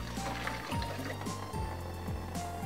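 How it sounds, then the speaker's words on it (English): Hot cooking water from Samyang hot pepper stir-fried ramen is drained off the noodles, a faint, continuous pour and trickle with soft splashes. "Now I gotta drain the water."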